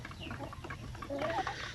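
A newly hatched batch of native Basilan chicks gives a few faint, high, thin peeps partway through, over a low, steady farm background with no talking.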